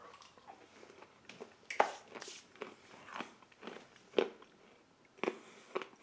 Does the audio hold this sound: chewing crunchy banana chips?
yes